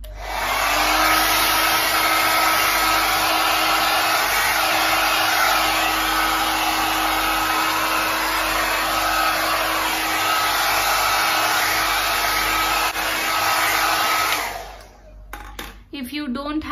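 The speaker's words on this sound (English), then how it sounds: "I'll just dry my hair with cold air." A hair dryer on its cold setting drying freshly conditioned hair, running as a loud, steady whoosh with a constant motor hum for about fourteen seconds before switching off, followed by some faint handling sounds.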